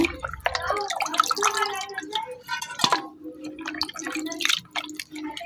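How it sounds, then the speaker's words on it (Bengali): Chicken meat being washed by hand with water in a kitchen: splashing and dripping water with wet handling sounds, close and intermittent, ending with drips and a soft trickle. "তো এখানে আমি সুন্দর করে মাংসটা ধুয়ে নিছি"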